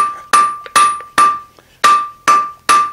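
Hammer striking hot steel on an anvil while drawing out a square taper, six sharp ringing blows in a steady rhythm, each leaving a bright metallic ring that fades before the next.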